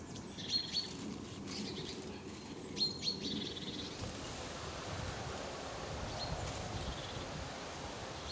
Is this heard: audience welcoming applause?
no